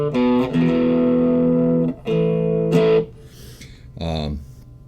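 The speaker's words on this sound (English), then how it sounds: "I can use distortion or overdrive channels and get a good tone" An electric guitar played through a distortion or overdrive channel rings out in sustained, gritty chords, several held notes and strums with brief pauses between them.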